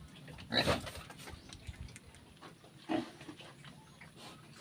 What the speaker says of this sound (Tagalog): Ayan po yung aking mga alagang baboy.